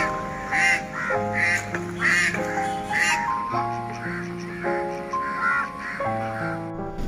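Ducks in Kuttanad quack repeatedly beside the water in short, bright bursts, heard over steady background music.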